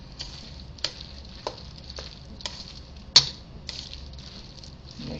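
A spoon scrapes and taps through vegetable pancake batter in a pan with light sizzling, a sharp metallic knock every half second or so, close and fairly quiet.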